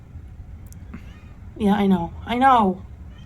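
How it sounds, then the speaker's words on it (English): A cat meows twice in quick succession, two drawn-out, wavering cries, up close, with a person speaking briefly just before. "You might hear my cat meowing."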